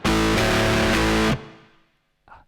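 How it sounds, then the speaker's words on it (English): A thick, saturated electric guitar tone through a distorted tube preamp (Palmer PDI-03 or PGA-04) rings out loudly for over a second, then cuts off and decays, followed by a brief faint scrape. "this is what a distorted tube actually sounds like"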